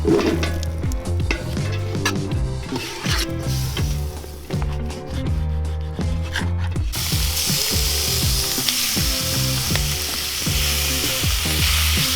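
Bacon frying in a pan alongside caramelizing onions, cooked outdoors in the Canadian wilderness, a steady crackling sizzle running throughout under a loud layer of music, with the sizzle turning broader and hissier in the last few seconds.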